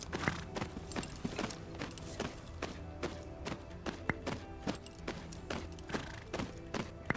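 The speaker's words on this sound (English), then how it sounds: "I can't believe I waited this long to ride horses." A ridden horse in a video game clip-clops at a steady trotting rhythm, its hooves sharp and close amid soft ambient noise.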